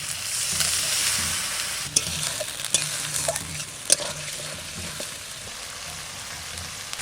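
Spice paste of ground cumin, coriander and chilli with a splash of water stir-fried in a pan for a rustic Bengali green jackfruit curry, a steady loud sizzle broken by occasional scraping knocks of the spatula, with no talking.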